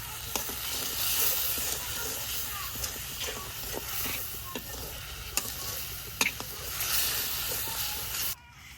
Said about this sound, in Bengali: মরিচের গুঁড়া হলুদের গুঁড়া সামান্য একটু ধনিয়ার গুঁড়া লবণ মশলাটারে ভালো করে কষে নই